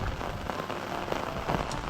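Steady rain patters on a hard surface, a dense, continuous wash of drops with no voices.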